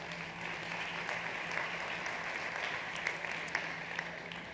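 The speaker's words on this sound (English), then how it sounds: "And this big applause is for you." An audience gives sustained, steady applause at the Mobility & Smart Cities startup competition at South Summit 2021, a dense even wash of clapping with no break.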